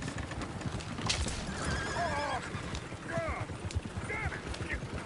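Horses in a Western video game whinny several times over a busy bed of galloping hoof clip-clops, with a voice talking in between.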